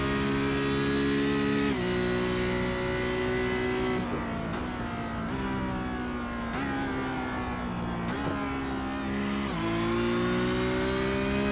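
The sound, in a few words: Porsche Cup race car engine accelerating down a straight, racing video game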